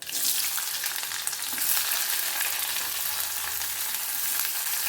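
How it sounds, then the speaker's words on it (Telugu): Onions frying in hot oil with popping mustard seeds and chana dal for a potato fry, giving a steady, loud, dense sizzle that holds evenly throughout with no talking. "ఆవాలు చిట్లిన తర్వాత ఆనియన్స్ వేసుకునేద్దాం"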